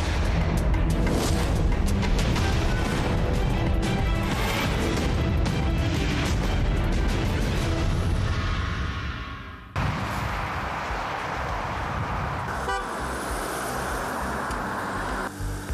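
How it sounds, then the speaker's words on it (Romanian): Dense, loud roar of big-city street traffic, with engines and vehicles rumbling continuously and a brief sharper change partway through, no voices. "Așa arată și așa sună o zi din viața într-un oraș mare."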